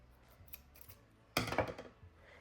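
Scissors snip through a crocheted yarn tail with one quick, close cut, preceded by faint rustling in a quiet room.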